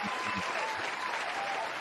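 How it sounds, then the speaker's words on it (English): A round of applause for a guest at the close of a sports talk show, a dense, even burst of clapping and crowd noise lasting the whole moment, with a brief low voice at the start. "Round of applause for D."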